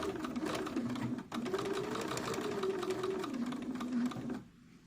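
Domestic sewing machine back stitching a small doll dress, its motor running in a steady close whir for several seconds with a brief stutter when direction changes, then stopping near the end.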